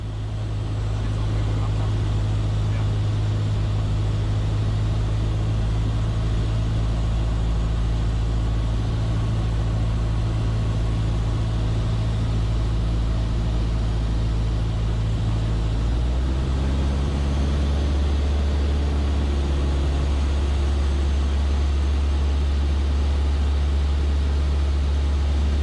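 A Cessna 152 light aircraft engine during descent on approach to runway 25 at Stuttgart: a loud, continuous propeller drone heard from inside the cabin, which drops to a lower pitch partway through as power is reduced.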